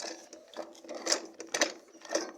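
A sewing machine stitches a box bag up close, with a quick mechanical clatter of needle strokes in a steady, slightly uneven rhythm and no talking.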